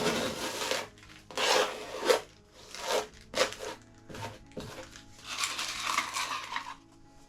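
A palette knife spreads sand texture paste across a canvas in separate scraping strokes, each a gritty rasp lasting under a second, with brief quiet gaps between them and a longer stroke near the end.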